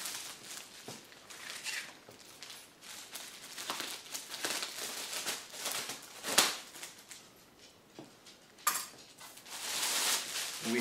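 Scissors snip through packing tape on a boxed Ooni Pro wood-fired pizza oven, mixed with crinkling cardboard and plastic rustle in a continuous, close handling clatter.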